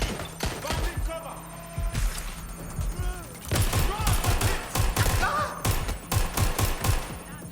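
Rapid bursts of automatic gunfire in the video game Watch Dogs: Legion, shots rattling in quick rhythmic volleys that grow denser and louder in the second half, with thuds mixed in.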